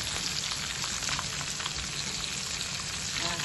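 Battered shrimp sizzle in hot oil as they fry, a steady dense crackle running close and even throughout with no voices.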